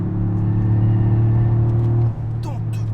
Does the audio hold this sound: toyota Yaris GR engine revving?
yes